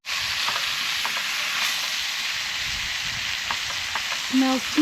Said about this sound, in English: That slab of beef in there. Yummy! Can you hear that? Sizzling.